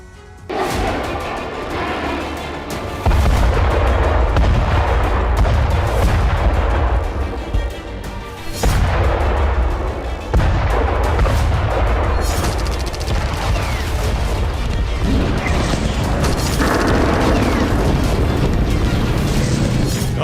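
Bombs exploding in Gaza, a loud barrage of heavy booms and rumbling blasts rolling one into another with continuous roar and rubble-like crackle throughout.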